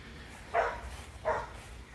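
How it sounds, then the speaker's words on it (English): A dog barks twice somewhere in a residential neighbourhood beside a field. The two sharp, moderately distant barks are spaced well apart over a low steady background hum. "Shut up, dog."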